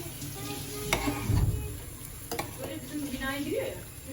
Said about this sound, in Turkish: Evet tarhanamız kaynıyor arkadaşlar.